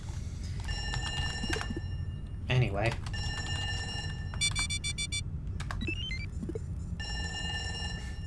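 Alarm ringing in the video game Duskers: repeated electronic bell-like tones in bursts, broken by other game beeps and tonal chirps, with someone talking briefly over it.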